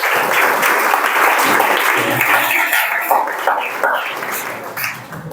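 Students applaud at a school seminar on veganism, a dense, loud burst of clapping that fills the whole stretch and tapers slightly toward the end, with a few voices mixed in.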